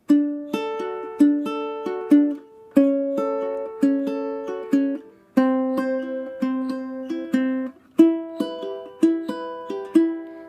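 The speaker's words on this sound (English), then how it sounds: "If you're playing a regular ukulele, it's going to sound like this." Ukulele chords strummed one after another in a steady rhythm, each ringing briefly before the next, bright and close with no voices.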